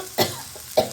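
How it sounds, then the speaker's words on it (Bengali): Two sharp coughs, brought on by pungent chili fumes while cooking an egg bhuna with turmeric, burst out close and loud about half a second apart over a faint kitchen background. "লঙ্কার এত ঝাঁঝ, সেই ঝাঁঝে আমার মাঝখানে একটু কাশি এসে গেছিলো।"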